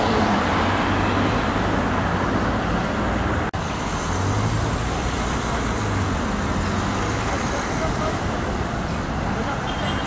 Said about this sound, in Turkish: Şu anda orada da bir trafik durmuş vaziyette.